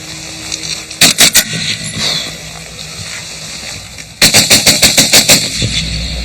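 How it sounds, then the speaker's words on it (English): Two bursts of machine gun fire at a target, a short burst of four rapid shots followed moments later by a longer run of about ten, close and loud over a steady background rumble. "align this gun onto the target and then have a couple of bursts"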